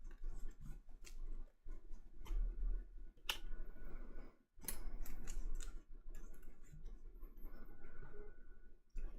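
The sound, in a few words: shuffling cards of the DC deck-building game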